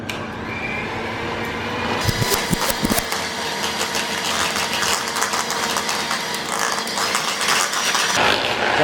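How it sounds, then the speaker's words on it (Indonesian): An electric mixer beats cream cheese for a tiramisu cotton cake in a professional kitchen, running as a steady whirring drone throughout, with some clattering of the beaters against the bowl. "Lalu cream cheese kita kocok"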